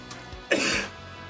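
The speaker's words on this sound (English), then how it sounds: "I'm so sorry for coughing so much." A single short, close cough, close to a throat clear, comes from a person over faint background music.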